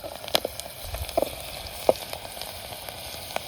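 Chicken with a spoonful of turmeric sizzles in a pan over a wood-fired stove, with a soft steady fry broken by a few sharp scraping taps of a spoon stirring, close and moderately quiet, with no talking.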